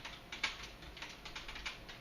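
Light, quick keystrokes tap out on a computer keyboard, an irregular run of soft clicks close by with no voices.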